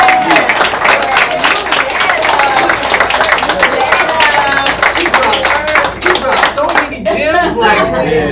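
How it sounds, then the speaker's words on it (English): Loud, close applause from an audience at an authors' summit, with dense clapping and people talking and cheering over it before it tapers off near the end. "give her another round of applause."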